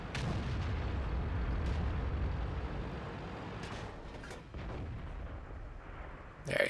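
A tank gun fires in World of Tanks during a battle against a T-26. A low, rumbling boom carries through, and a sharp, louder blast lands near the end.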